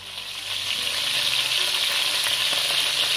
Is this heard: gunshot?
no